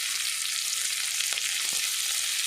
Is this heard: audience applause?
no